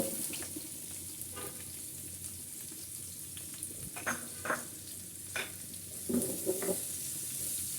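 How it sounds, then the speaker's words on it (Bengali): Onions frying in hot oil in a pan after fish, a steady loud sizzle with scraping stirs from a spatula at irregular intervals, close and without talk. "তারপর এক কাপ পেঁয়াজ দেব"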